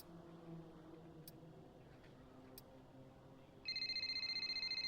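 A phone rings in the F1 23 game menu, entering after a quiet stretch of soft ambient hum and faint ticks, then ringing steadily and fairly loud with a repeated electronic trill.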